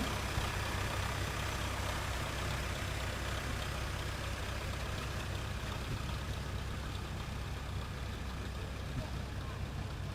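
A 30-20 tractor engine rumbles in an old iron parade of power at Wilson County Old Iron Days in Fredonia, Kansas, a steady low idling drone outdoors with an announcer's amplified voice over it.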